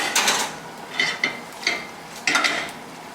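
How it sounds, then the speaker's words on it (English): Fettuccine with seafood and shells sautéing in a pan, heard as several brisk scraping and tossing strokes of a utensil against the pan, each followed by faint sizzle, close and fairly loud. "we're gonna saute the fettuccine in here just a little bit"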